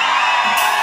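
A crowd at a live norteño concert in Puebla shouts and whoops loudly in a dense, sustained roar, heard up close for under a second.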